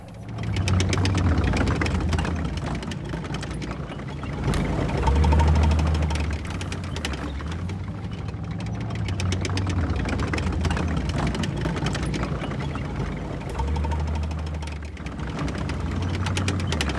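Israeli tanks idling on a highway through Gaza, a deep, steady low engine rumble with a faint knocking texture that stays constant and fairly loud throughout, with no talk.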